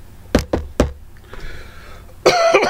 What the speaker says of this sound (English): Congested and coughing.